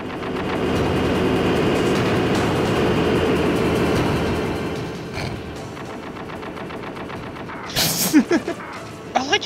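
An M1 tank firing its gun in Metal Gear Solid, a sustained rumbling barrage of rapid fire with engine roar that fades, then a few sharp bursts near the end.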